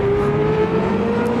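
Race cars in a sim racing game accelerate at the race start, their engines a loud, steady, high-pitched whine that sustains without a break and sits close and dominant, with no talking over it.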